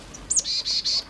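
A varied tit in winter mountain woods on Gyeryongsan gives a quick rising-falling whistle, then three even, sustained high call notes in a row, clear and close with no voices.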